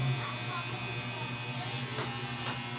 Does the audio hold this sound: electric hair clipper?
yes